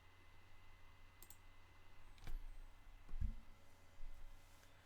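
A mouse click on a computer, heard as a few faint, sharp, isolated clicks spaced about a second apart against a quiet room hum, with no voices.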